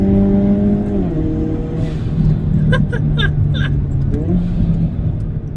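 A car with N Grin Shift engaged accelerates hard, its engine note droning loud and steady from close by, then shifting pitch as it pulls on.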